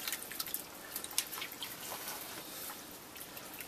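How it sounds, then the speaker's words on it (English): Water splashes and trickles while butchered roadkill deer venison is rinsed, a faint, continuous patter of drips and running water heard close and alone. "Just give it a nice rinse."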